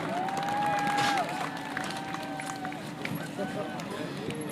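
A speedway crowd at an Enduro-X event cheers and roars in a continuous wash of noise, with an announcer talking over it through a reverberant PA.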